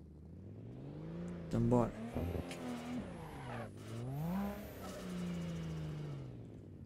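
A car drifts in Assetto Corsa on a Logitech pedal setup with a handbrake mod and sequential gearbox, engine revving and swooping in pitch with tire squeal bursts, while someone talks briefly.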